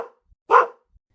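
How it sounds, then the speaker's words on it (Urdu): A small dog gives one loud, sharp bark, close by, following a brief fainter yelp, with silence around it. "تو زور زور سے بھونکنے لگا۔"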